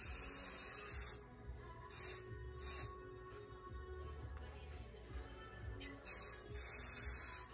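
Spray paint can spraying while lettering in red, several hissing bursts of varying length, loud and close, separated by short pauses with quiet background noise.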